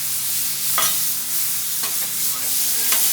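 Potatoes frying in leftover steak fat on a Blackstone griddle, a loud steady sizzle broken by a few spatula scrapes as they are turned, close up with no speech.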